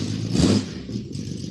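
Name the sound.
2.8 engine revving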